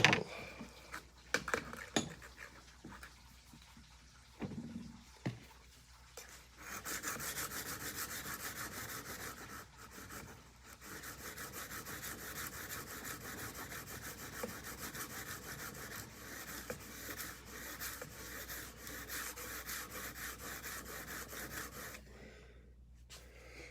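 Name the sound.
sharpening a kitchen knife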